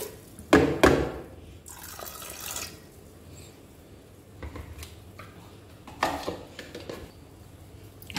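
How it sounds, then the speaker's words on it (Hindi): Water pours in short bursts into a pressure cooker holding chickpeas, with splashing and trickling near the microphone between quieter pauses. "और अब मैंने कुकर में डाल दूंगी और मैं इसमें पानी डालूंगी।"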